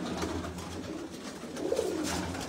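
Pigeons coo softly at Jinnah Garden in Islamabad, low murmuring calls rising gently out of a steady background wash.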